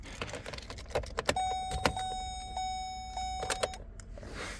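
A car's electrics power up as the ignition key turns, a steady electronic tone holding for a couple of seconds among faint clicks and small mechanical knocks in a quiet interior, with no talking.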